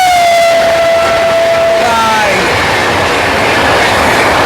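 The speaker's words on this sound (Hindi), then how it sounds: "अजमेर भागलपुर हमसफ़र एक्सप्रेस अब हमारी ट्रेन को ओवरटेक भी कर रही है" Ajmer Bhagalpur Humsafar Express passing at speed alongside another train, a loud steady rush of rail noise with a long horn tone at the start that drops in pitch as it goes by.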